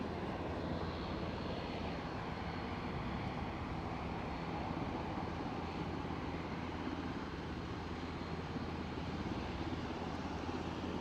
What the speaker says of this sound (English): British Airways are riding off down that taxiway